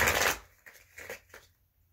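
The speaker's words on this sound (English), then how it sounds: "I'm gonna shuffle this tarot deck," A tarot card deck is shuffled up close, a brief dense riffle burst followed by a few quieter soft card flicks before falling silent.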